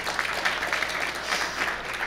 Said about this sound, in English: could you give him a round of applause